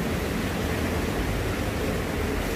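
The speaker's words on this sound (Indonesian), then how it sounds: "Ini udah kedengeran gini airnya nih. Deras." Rushing water of the Krisik waterfall in Bali, a loud, dense, unbroken roar of falling water close by, with no voices.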